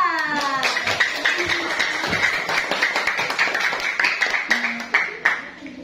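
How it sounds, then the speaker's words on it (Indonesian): Classroom students clapping for a group after a science mixing experiment, a run of sharp, irregular hand claps close by, with a voice briefly audible near the start. "berikan tepuk tangan kepada kelompok Sinta"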